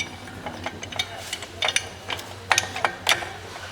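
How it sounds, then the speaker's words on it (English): A ratchet comes off a pinion bolt on a BMW during pinion seal work, producing a series of sharp metallic clicks and clanks at close range, irregularly spaced over several seconds. "I'll probably take my ratchet off of there first."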